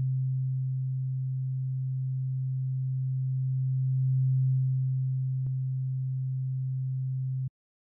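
Two sine waves in different octaves produce a steady, low pure tone that hums evenly for about seven seconds in FL Studio, swelling slightly midway, with a faint click before it cuts off abruptly.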